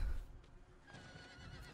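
A horse neighs in the game Diablo IV, a short, fairly faint whinny within the game's ambient sound, with no talk over it.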